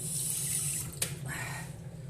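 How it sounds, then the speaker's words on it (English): Water running from a kitchen tap into a cooking pot, a steady close hiss and splash with a brief clunk partway through and the flow continuing. "add a little bit of water"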